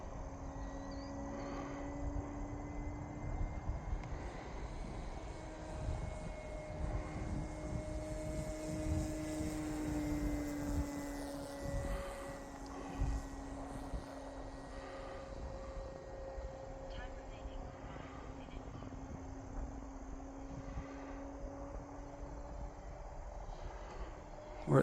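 An E-flite Carbon Z Cessna 150 radio-control model plane flies overhead, a steady whining motor drone that holds throughout and shifts gently in pitch on a low pass, with wind and outdoor background beneath.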